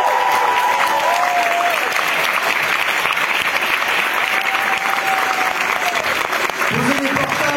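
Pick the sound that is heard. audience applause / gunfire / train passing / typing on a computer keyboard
audience applause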